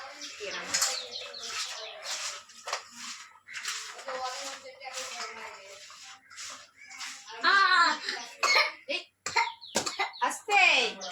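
A small child coughs a few times in a home kitchen, the coughs short and close amid other household sounds, with adults talking around them.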